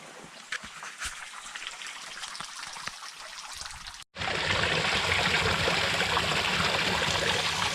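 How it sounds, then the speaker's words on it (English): A small woodland stream at Hastings Country Park trickles softly with scattered drips and splashes, then turns abruptly into a louder, denser rush of flowing water after a brief gap. "listen to the sounds of the water"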